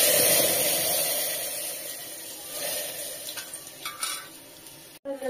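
Garlic and mustard seeds frying in a pan, with a continuous hiss and sizzle that fades over a few seconds, then scattered crackles and a clatter of stirring near the end.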